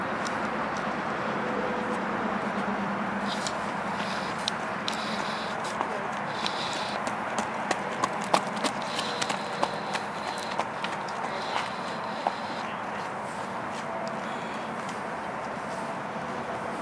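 A gray mare, 16 hands, is ridden on hard ground, her hooves clip-clopping in a steady walking rhythm that is close and clear under constant noise and speech.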